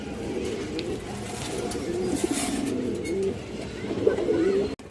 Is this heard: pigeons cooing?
yes